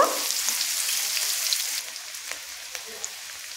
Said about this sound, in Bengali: পেঁয়াজগুলোকে একটু লাল করে আমি ভেজে নেব।